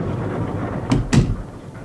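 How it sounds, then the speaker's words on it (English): Two quick dull thumps, close together, as a door is shut in a quiet interior scene from a Joe 90 episode, over a low steady background hum and no speech. "Shut the door behind you."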